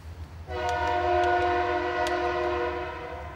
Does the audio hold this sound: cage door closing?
no